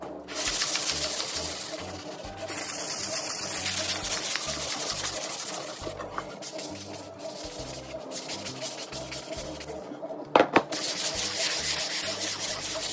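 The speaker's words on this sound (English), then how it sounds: "Once I finish sanding my wood" Rhythmic rubbing of sandpaper on wood, close and steady back-and-forth scratching strokes with a few short pauses.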